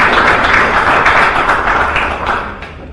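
A standing audience at a philosophy seminar applauds to welcome a speaker, a dense, loud wash of many hands clapping that holds steady, then thins out toward the end.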